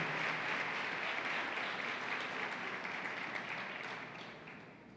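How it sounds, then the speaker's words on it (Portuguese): A church congregation at a Methodist service claps together in steady, continuous applause that fills the room and fades slightly toward the end, with no voices. "vamos aplaudir o Senhor pela sua palavra"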